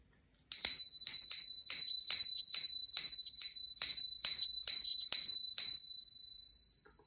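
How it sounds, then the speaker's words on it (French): A small bell rung repeatedly in quick succession to open a card reading, bright and close, about a dozen clear strikes with ringing tones that fade away at the end, no voices. "petite cloche pour avertir les guides que nous commençons ce tirage"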